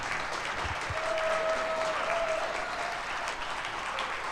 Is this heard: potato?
no